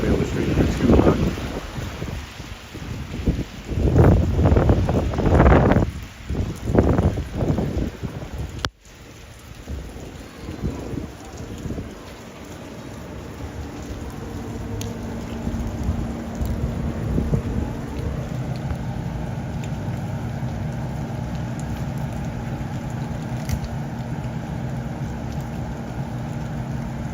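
Rain and gusty wind on a street at night in Duluth, Minnesota, a steady hiss of falling rain with loud buffeting wind bursts early on, then a calmer continuous patter close to the microphone.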